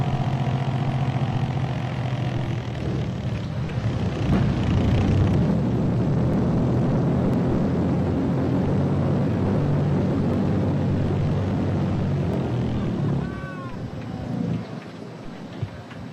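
Propeller aircraft drone, broad and steady, as a plane circles round again to land on the Humboldt Glacier; wind buffets the microphone throughout and the engine fades near the end.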